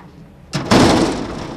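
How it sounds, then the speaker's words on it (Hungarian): An old changing-room door at a sports club is pushed shut with a loud thud, followed by a sustained rattling rumble that slowly fades. "Az új ajtó is egészen biztosan halkabban csukódik majd be"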